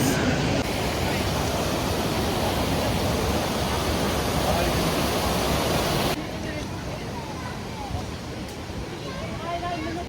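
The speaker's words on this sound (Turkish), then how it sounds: "Şimdi Tomara Şelalesi'ne geldik." Tomara Waterfall in Amasya, Turkey, rushes with a loud, dense, unbroken roar beside a stream, dropping slightly in level partway through as if the position shifts.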